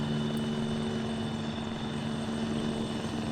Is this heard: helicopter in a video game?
yes